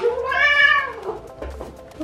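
A house cat lets out one clear, drawn-out meow up close, followed by quieter murmuring voices.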